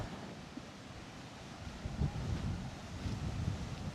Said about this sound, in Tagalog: Grabe ang lakas ng alon, man.